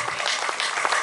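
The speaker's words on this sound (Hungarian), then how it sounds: "Nagy tapsot a zenekarnak" Audience applause for a band at an outdoor concert in Zamárdi, a brief burst of dense, loud clapping from a crowd.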